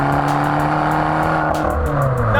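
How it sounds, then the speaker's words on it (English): A Fiat 500 Abarth engine in sport mode rumbles loudly and steadily up close, with a droning exhaust note and faint crackles from the back. "crackling and popping out back."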